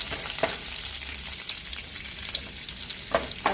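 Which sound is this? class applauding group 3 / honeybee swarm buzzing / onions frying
onions frying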